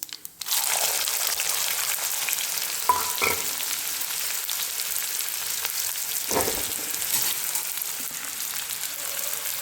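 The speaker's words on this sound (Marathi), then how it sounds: "आता कांदा टाकणार आहे." Onion hitting hot oil with cumin for a tomato chutney, a loud sudden sizzle that settles into steady close frying with occasional stirring scrapes.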